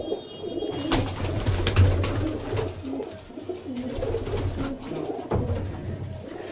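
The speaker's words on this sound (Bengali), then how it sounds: "বন্ধুরা এই পায়রা দুটো সব করে ছেড়ে দেখাচ্ছি" Pigeons at a high-flying pigeon loft cooing in repeated low, throaty calls close by, with rustling, wing flutters and occasional sharp knocks in between.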